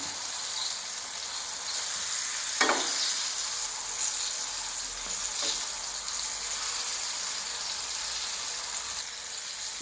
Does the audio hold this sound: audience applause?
no